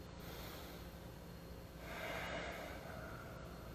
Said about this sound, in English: taking an inhale through the nose, exhale through the nose